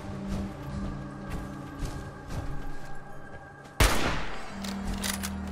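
Gunfire from Fallout 4 aimed at a glowing mole rat: scattered shots rise over a steady ambient hum, then one sharp, loud blast near the end, with no voices.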